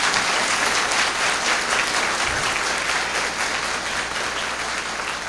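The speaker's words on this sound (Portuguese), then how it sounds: "Uma salva de palmas para todos esses irmãos." Sustained applause from a live audience at a spiritist talk fills the space, dense and steady throughout, loud and close with no voices over it.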